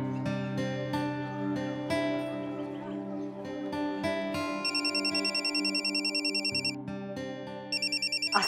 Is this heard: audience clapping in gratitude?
no